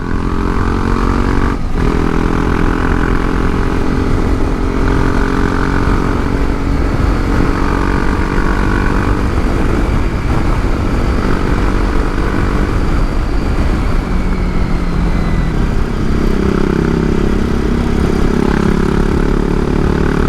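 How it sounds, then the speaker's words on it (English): A steady, loud engine roar from a BMW G310 GS motorcycle holds throughout, droning continuously with a slight rise in pitch near the end as it pulls under light throttle. "The advantage of a torquey motorcycle is very little throttle and the bike starts pulling."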